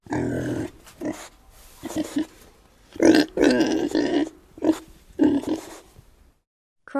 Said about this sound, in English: Boar.